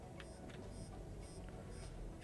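A spaceship's warning alarm beeps in the Star Citizen video game, short repeated electronic pips at a steady rhythm, faint under a low engine-like hum.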